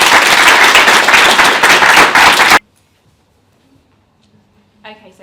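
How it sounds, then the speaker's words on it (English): A conference audience breaks into loud, dense applause for around two and a half seconds, then it stops sharply, followed by near silence and a faint voice. "Can I just get another round of applause for everyone?"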